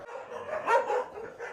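Several dogs at an Indian animal shelter housing hundreds of rescued animals bark and yip together in a close, overlapping chorus, with no talk over them.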